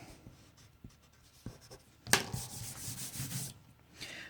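A pencil shading on paper, first scattered light taps and strokes, then a loud onset of continuous scratchy rubbing that runs for about a second and a half, fading into softer strokes, with no talking.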